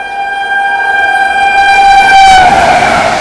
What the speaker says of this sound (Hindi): बाकी कोई तो ट्रेन भाई बढ़िया रफ्तार में आ रही है